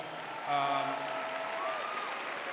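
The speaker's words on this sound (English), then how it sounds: "Please give Paul a round of applause." Graduation audience at a University of Phoenix ceremony applauds Paul, a soft, spread-out patter of clapping in a large hall, with a voice sounding briefly over it near the start.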